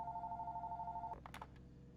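A telephone rings in the horror game Fears to Fathom, steady repeated warbling electronic trills for about a second before cutting off, followed by a few soft clicks and room noise.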